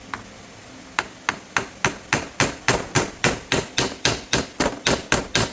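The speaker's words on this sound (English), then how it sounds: "You can take a little hammer and just bump the motor right here." A small hammer taps the metal of a car's power window motor again and again, sharp rapid knocks in a steady rhythm that speed up and continue to the end.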